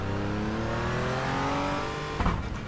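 A Porsche Cayman GT4 engine in iRacing at Sonoma pulls hard and steady, its pitch climbing loud and close, then a brief clatter as it shifts near the end.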